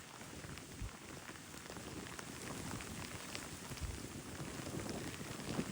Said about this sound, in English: It's proper Lake District heavy rain.